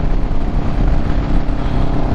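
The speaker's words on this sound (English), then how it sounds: "sitting on top of a engine cruising down the road on two wheels" A Kawasaki Vulcan S 650 cruiser motorcycle rides down the road, with a loud, constant engine rumble mixed with heavy wind rush buffeting the microphone.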